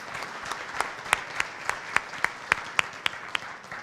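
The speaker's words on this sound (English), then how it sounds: "A round of applause for our amazing sponsors." A business audience applauds event sponsors, a nearby stream of clapping with several distinct, evenly spaced loud claps standing out over the steady patter.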